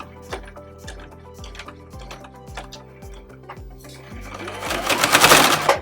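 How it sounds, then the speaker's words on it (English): A sewing machine stitches across the strap of a small tote bag, its needle ticking in quick regular runs with brief pauses, and the motor whirs louder near the end. "sew all the way over the strap, and then reverse"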